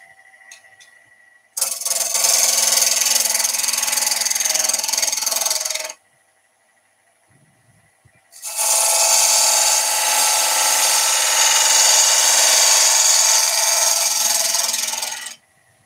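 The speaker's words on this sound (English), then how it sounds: "Let's go with a smaller gouge to do that." A small quarter-inch gouge cutting into a spinning epoxy and twig bowl on a wood lathe, two loud sustained bursts of shearing noise separated by a short quiet pause.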